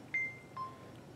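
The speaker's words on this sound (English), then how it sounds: "Ignore my watch beeping." A wristwatch gives two short electronic beeps, spaced about half a second apart, close and fairly quiet over a faint room hiss during resin 3D printer build plate work.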